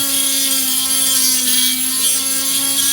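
A power tool grinds steadily into a P225 pistol magazine being modified for a Star BM 9mm, giving a loud continuous high whine with a constant motor hum beneath it and no speech.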